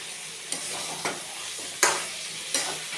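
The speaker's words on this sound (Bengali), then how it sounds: "এটা আমরা আর ঢাকা দেবো না, এবার এটাকে নাড়াচাড়া করতেই থাকবো" Food frying uncovered in a pan with kasuri methi nearby, a steady sizzle broken by four sharp stirring scrapes spaced roughly evenly, close and fairly loud, with no voices.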